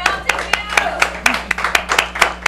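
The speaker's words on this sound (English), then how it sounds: "Yeah, you can applaud." A studio audience at a local tonight-show taping claps in a quick burst of applause, sharp irregular hand claps close by with a voice talking over them.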